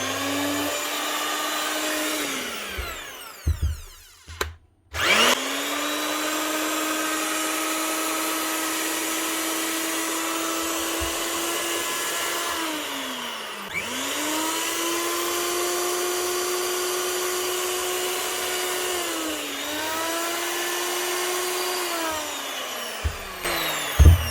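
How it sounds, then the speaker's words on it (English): An Alfra mixing drill motor, repaired with four new bearings, whines at a steady high pitch, stopping and restarting several times with rising spin-ups, loud and close. "Mixing drill up and running again with 4 new bearings"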